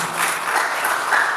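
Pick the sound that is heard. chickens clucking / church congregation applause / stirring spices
church congregation applause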